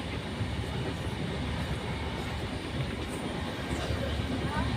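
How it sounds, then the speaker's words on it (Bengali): Inside a coach of the moving Howrah Amareshwar Mail, a dense, continuous rumble and rattle of the train fills the space, loud and steady throughout. "হাওড়া অমরেশ্বর মেল গাড়ি এখন রামপুর বেরিয়েছে। ট্রেনের বগিতে বসে আছি এখন।"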